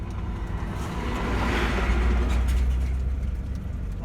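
A big truck carrying pipes rumbles past on a quiet forest road, a loud low engine drone and tyre roar that builds and fades over a few seconds, heard from inside a car.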